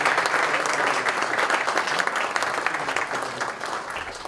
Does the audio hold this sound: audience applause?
yes